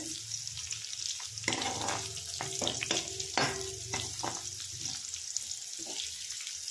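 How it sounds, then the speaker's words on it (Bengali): Small bitter gourd pieces sizzle as they fry in a pan, a constant soft crackle broken by scattered clinks and scrapes of stirring. "উচ্ছেগুলো কিন্তু মোটামুটি ভাজা হয়ে গেছে।"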